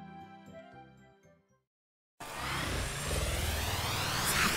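A car in the video game Dragon Ball Z Kakarot drives off after a gap of silence, its engine note rising and holding steady at a loud, close level under game music.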